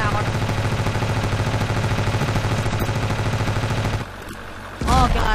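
Sustained rapid heavy-weapon gunfire in the video game Ravenfield, loud and continuous for several seconds, then a brief lull before another burst of shots.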